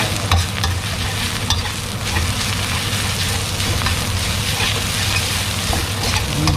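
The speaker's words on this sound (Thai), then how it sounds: "ผัดพริกแกงให้หอม" Red curry paste stir-fries in a pan, a steady loud sizzle with scraping stirring strokes running throughout and a low hum underneath.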